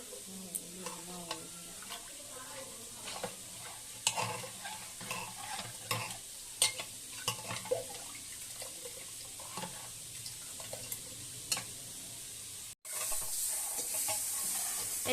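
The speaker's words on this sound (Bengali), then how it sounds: "এবার নুন আর হলুদটাকে আমি খুব ভালোভাবে একসঙ্গে পুরো ডালের সঙ্গে মিশিয়ে নিচ্ছি" A spoon stirs moong dal with salt and turmeric in a pot, scraping clinks and wet stirring strokes recurring irregularly over a soft simmer, close and fairly quiet, with a brief break near the end.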